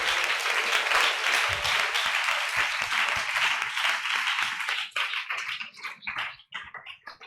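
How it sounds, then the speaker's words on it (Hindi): A church congregation claps hands together, dense, loud applause that holds steady and then thins into scattered individual claps before fading out. "Will you clap your hands?"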